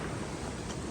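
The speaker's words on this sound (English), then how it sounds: "A nice waterfall there." A waterfall along a mountain stairway section of the Pacific Crest Trail between Bishop and Mt. Whitney sends out a constant broad roar of rushing water, even and unbroken.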